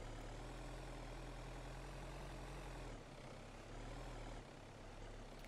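A truck engine in a rock crawling video game idles with a steady, loud, low rumble and heavy drone, dipping slightly partway through, with no talking.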